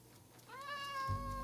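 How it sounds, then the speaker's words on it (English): A single cat meow in the Minecraft video game, a short rising and falling call, clear and fairly close over a low background hum. "Oh, look, a cat."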